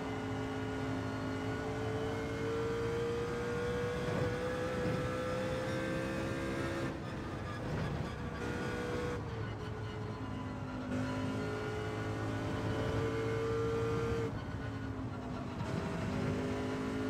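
Group 2 race cars roar around the 24 Hours of Le Mans circuit, engines droning loud and steady with shifting pitch as cars rev, pass and change gear, no voices over the continuous motor noise.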